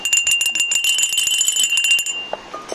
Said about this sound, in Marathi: ही घंटा आहे. घंटा वाजवायची.